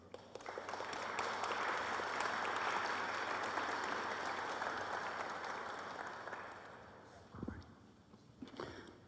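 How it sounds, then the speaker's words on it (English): Sustained applause from an audience welcoming a speaker at a talk on spirituality and evangelization, a steady wash of many hands that swells, holds, then fades out with a few last claps. "It's always nice to have people clap before I do anything."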